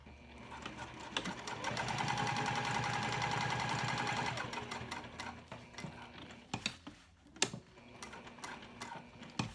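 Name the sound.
sewing machine stitching cork checkbook cover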